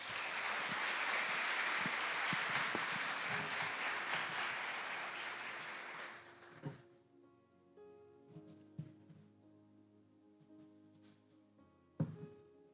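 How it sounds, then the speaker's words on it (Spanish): A church congregation applauds loudly for about six seconds, then the clapping fades out, leaving scattered thumps and quiet room sound. "Denle un aplauso al Espíritu Santo"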